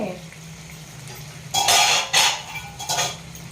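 A ladle stirs a pot of country chicken curry, giving a low simmering hiss that breaks into a few loud, bright scraping strokes against the pot's metal.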